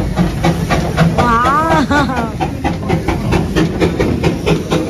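Darjeeling toy train steam engine hissing in a steady, loud rush with rail clatter, a voice briefly audible partway through.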